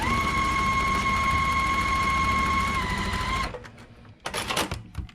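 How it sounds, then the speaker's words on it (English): A sewing machine stitching a quilt seam runs with a loud, steady whirring hum, then stops, followed by a few brief clicks and handling clatter nearby. "And then we're going to start stitching from that side."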